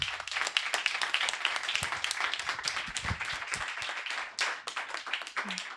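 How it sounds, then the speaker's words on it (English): Audience applause fills a talk venue, dense and steady clapping from a crowd that dips briefly near the end, with a faint voice underneath. "Here's your applause."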